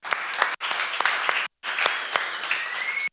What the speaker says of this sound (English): I'd like to give Lauren a round of applause while she's in here